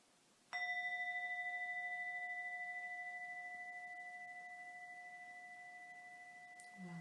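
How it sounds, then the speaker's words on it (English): A single bell or singing bowl strikes once to close a yoga nidra session, its clear pure tone ringing out loud and then sustaining for several seconds as it slowly fades in a quiet room. "Welcome in the sound of the bell carrying you back safe and sound."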